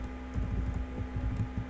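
Keys tapped in quick, irregular clusters on a computer keyboard while a command is entered in an Ubuntu terminal, soft and close over a low steady hum.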